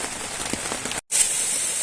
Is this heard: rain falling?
yes